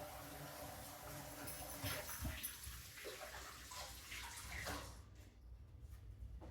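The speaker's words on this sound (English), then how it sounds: "I'm gonna rinse my hands up." Tap water running steadily over hands being rinsed while making homemade mozzarella, a close continuous splashing that shifts as the hands move, thinning out near the end.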